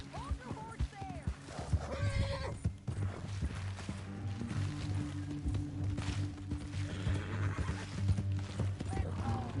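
A horse whinnies sharply amid a busy Red Dead Redemption 2 game soundscape, with hoof clops, rumbling ambience and background voices throughout.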